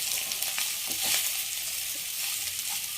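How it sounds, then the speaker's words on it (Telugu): Paneer pieces sizzle steadily in a pan over a low flame for biryani, a continuous soft hiss of frying with faint stirring scrapes, close and even throughout. "సిమ్లో పెట్టి వేయించుకుందాం."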